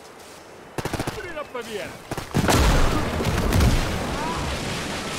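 A frag grenade goes off in the WWII shooter OstFront during a Winter War battle, a loud broadband blast that rumbles on amid rattling gunfire, with a player talking over it.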